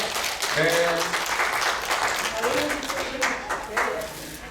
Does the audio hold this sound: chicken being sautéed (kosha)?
no